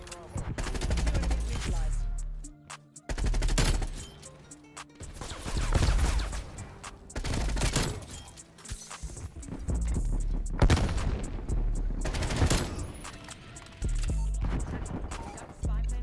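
Groza rifle fire in Call of Duty Cold War, loud, close bursts of rapid gunfire broken by brief pauses, with a player's voice talking faintly underneath at times.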